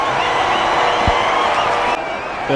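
A cricket stadium crowd at an India versus England one-day international in Kolkata roars steadily after India take a wicket, a dense, sustained wash of cheering.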